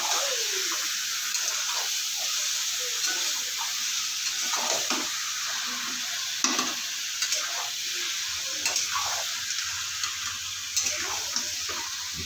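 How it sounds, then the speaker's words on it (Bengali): Country rooster meat stir-fried in a pan, a steady close sizzle with scattered scraping stirs and occasional clanks throughout, no voices over it. "দিয়ে মাংসটা কষিয়ে নেব ভালো করে।"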